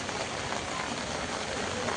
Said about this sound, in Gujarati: વરસાદ છે જોરદાર ચાલુ થઈ ગયો ફૂલ.